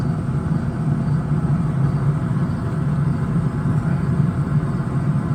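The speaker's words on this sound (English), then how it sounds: "The noise you hear is a blower." A pellet smoker's blower fan drones with a steady low mechanical whir and rumble, continuously and evenly, with no voices.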